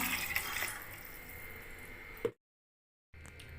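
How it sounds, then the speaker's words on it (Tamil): Water runs steadily from a tap into a pan of ground spice paste for Chettinad curry, a soft splashing stream, then cuts off abruptly to silence before faint water noise resumes. "இப்போ நம்ம தண்ணி சேர்த்துக்கலாம்"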